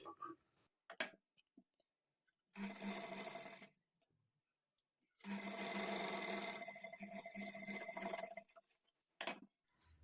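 A sewing machine stitches thread piping for sleeves in two sustained runs separated by quiet gaps, with short clicks and brief bursts at the start and end.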